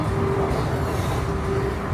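Chinese subway train running above ground, a steady, continuous rumble of wheels and car noise with a faint whine on top, close and unbroken throughout.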